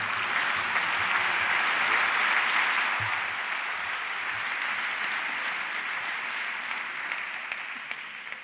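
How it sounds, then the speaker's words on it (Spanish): Sustained audience applause at a Naukas 17 science talk, a dense steady wash of clapping from a large crowd that fills the room throughout without a break and tapers only slightly toward the end. "Un aplauso para Hitor Sánchez, mi, eh, mi dieta cojea."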